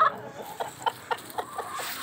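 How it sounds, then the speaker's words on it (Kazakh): Up close, a rooster and hens give a string of short, evenly spaced clucks as they scratch at the ground outdoors, fairly loud with no talking. "Әтіш өзі қасып беріп жатыр тауықтарға"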